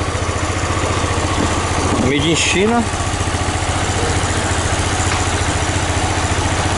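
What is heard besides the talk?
Yamaha Fazer 250 motorcycle engine idling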